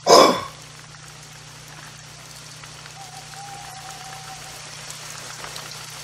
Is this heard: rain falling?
yes